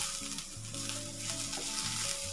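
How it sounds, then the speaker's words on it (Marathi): Onion frying in a pan until reddish-brown, a soft continuous sizzle with faint bubbling and crackle, fairly quiet and steady, with no voices. "कांदा भाजून झालेला आहे।"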